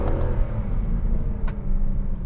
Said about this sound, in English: That was grip, hard acceleration.